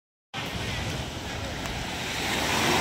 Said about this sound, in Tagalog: At medyo hindi na gaano malaki ating alon ngayong umaga.